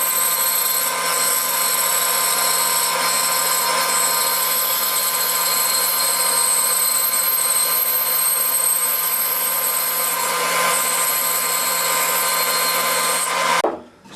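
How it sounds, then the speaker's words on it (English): A bandsaw runs continuously, cutting out a wooden electric guitar part with a loud, steady whine and rasping blade noise close by, then winds down abruptly at the end. "Now I can take it to the bandsaw and go ahead and cut that out."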